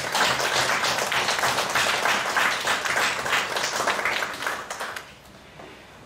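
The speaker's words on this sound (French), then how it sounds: "Oui, on peut les applaudir, les agents." A council meeting audience applauds the municipal staff, a steady, fairly close burst of clapping that thins out and fades near the end.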